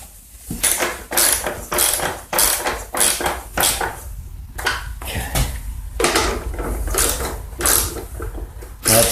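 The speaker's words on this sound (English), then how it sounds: "I'll turn it over and tighten my 2 top bolts up." Ratchet wrench tightening the top bolts on a Troy-Bilt TB210 front-tine tiller during a belt replacement, bolts set into plastic: repeated close, sharp clicking bursts in quick runs with short pauses between, loud and alone.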